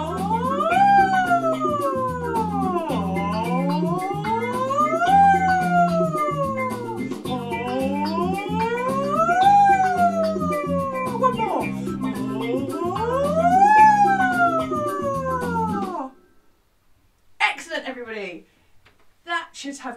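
Group of singers imitating a siren in a singalong warm-up, voices sliding repeatedly from low to high and back in rising, falling sweeps over about sixteen seconds, followed by brief noises and quiet.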